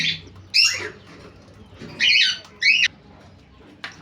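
Pet cockatiels and lovebirds give several sharp, shrill squawks in short bursts, close by, separated by quiet gaps.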